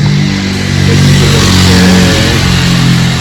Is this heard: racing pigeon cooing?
no